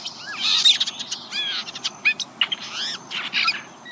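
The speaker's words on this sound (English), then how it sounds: "Quietly, the bird extends its head slightly forward, slowly turns it from side to side, and begins to softly sing." A blue jay sings softly, a string of quick chirps, slurred whistles and short rising notes at close range over a low, steady background hum.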